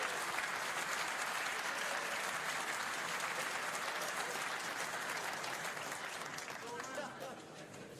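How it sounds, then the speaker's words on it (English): Audience applause fills a World Snooker Championship arena, a dense sustained clapping from the crowd that holds steady and fades slightly toward the end. "Let's give her a round of applause"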